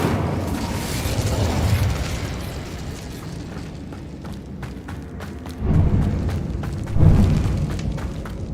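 Fire spell casting in Hogwarts Legacy gives a loud rumbling, explosive whoosh that swells twice, with crackling bursts and thuds in between, and no talking.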